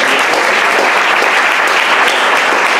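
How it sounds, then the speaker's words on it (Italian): Steady, dense applause from an audience at a talk on youth competitive sport, loud and continuous throughout without any voices. "Bene, fare un applauso."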